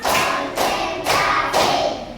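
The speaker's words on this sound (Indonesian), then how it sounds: "tepuk 4," A class of schoolchildren claps in unison in a counted pattern, three loud bursts of clapping about half a second apart, close and full.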